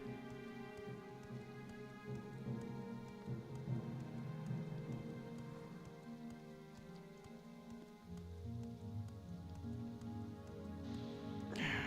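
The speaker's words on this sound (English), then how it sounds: "the lightning keeps absolutely terrifying me out of nowhere" Steady rain pours down in the Elder Scrolls III: Morrowind, a dense continuous wash, with low thunder rumbling and swelling beneath it partway through.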